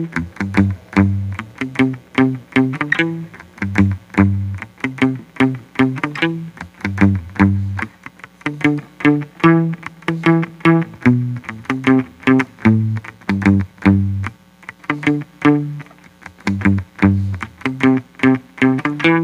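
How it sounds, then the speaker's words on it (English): Electric guitar plays a reggae accompaniment line from a song, a steady run of short, clipped plucked notes in a repeating pattern, close and clear with no voices. "A stock line is a guitar line that accompanies the bass line"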